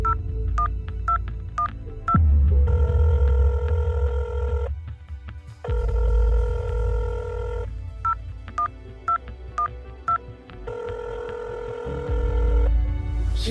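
A telephone is dialed with a quick run of keypad tones, then rings repeatedly without being answered, in long steady bursts separated by short gaps. Loud and close, with no voices.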